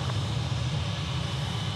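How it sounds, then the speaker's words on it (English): An aircraft taxis at Sydney Airport, giving a steady close engine drone and broadband roar that holds level through the short stretch, with no talk. "this aircraft is doing a backtrack now on taxiway Charlie"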